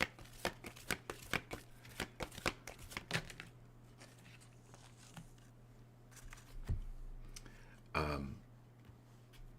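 A deck of cards is shuffled by hand in a quiet room, a quick run of crisp riffling snaps over about three seconds, then softer slides and handling, ending in a louder brushing swipe as a card is pulled.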